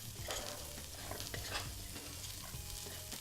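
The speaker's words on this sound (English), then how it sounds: "Give it a little mix to stir everything together." Batter of flour tinted green with tea being stirred in a bowl, a steady scraping and mixing texture with small clicks, close and continuous, no talking.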